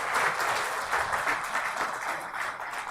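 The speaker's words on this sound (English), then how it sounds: "Let's have a round of applause for this enriching discussion" A conference audience at a spectrum economics and policy panel breaks into steady, moderately loud applause, with dense clapping that pulses slightly in waves and continues without speech.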